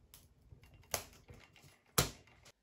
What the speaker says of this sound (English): So off we go, cutting out the laser cut parts.